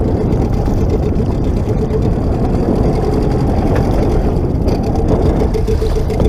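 A loud outboard motor drones steadily throughout, close and unbroken, with a rough low rumble and no talking.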